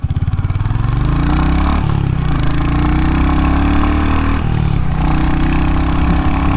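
A Royal Enfield Hunter 350 motorcycle engine runs close and loud, a deep steady thumping idle with two brief blips of revving around the middle, no talk.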